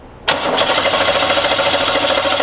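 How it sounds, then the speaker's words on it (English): A car engine cranking with all spark plugs removed and the throttle held wide open for a compression test, starting abruptly after a brief quiet moment, then a steady, rapid, even churning whir that continues without firing. "Now we're going to go ahead and crank the engine."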